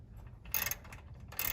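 Quick, quiet ratcheting clicks in two short bursts as a hand ratchet tightens a brace on a home air conditioning unit during a capacitor replacement.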